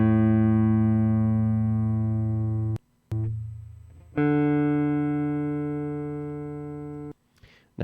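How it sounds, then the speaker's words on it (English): Open notes ring out on an electric guitar with Warman Texas Triple Hots pickups, playing clean, sustained tones up close. A long note decays, brief muted gaps follow, then a fresh strum rings and fades, with no talk. "Let's go ahead and listen to the Warman pickups open position."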